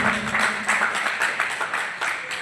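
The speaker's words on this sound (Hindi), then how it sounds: "प्लीज तालियां बजती रहनी चाहिए।" Audience clapping at a Hindu community honouring ceremony, a steady dense patter of applause sustained throughout with a faint voice underneath.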